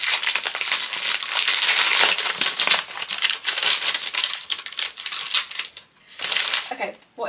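Wrapping paper with a polka dot print crackles and tears as books are unwrapped, loud and close, in near-continuous crinkling bursts that briefly pause near the end.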